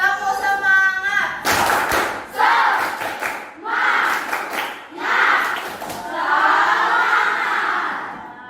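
A classroom of students shouts and claps in a rhythmic spirit-clap chant, loud group voices in bursts with thumping claps in between.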